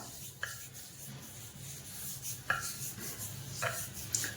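Ghee being rubbed by hand over a rolling board for sesame chikki, soft faint smearing with a few light taps and scrapes spaced a second or so apart in a quiet kitchen.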